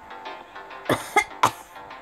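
Three sharp, raspy coughs burst out in quick succession over a quiet low hum, each short and forceful with brief gaps between, from a video game.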